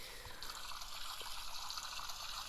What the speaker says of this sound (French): Je vais prendre ma douche.